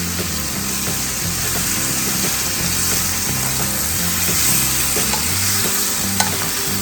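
Shrimp sizzle and fry in a pan with capers and lemon juice, a steady loud crackling hiss with continuous low stirring scrapes throughout and no voices.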